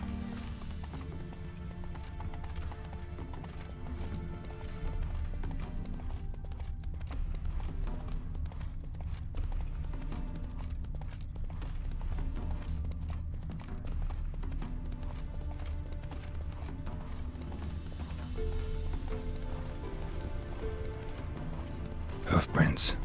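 A horse in the video game The Witcher 3 clip-clops steadily and continuously through the scene, its hooves blending with low ambient game sound and occasional faint voices.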